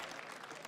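Crowd applause fills an esports arena during a Counter-Strike grand final match, a dense, steady wash of clapping and cheering that runs unbroken through the short moment.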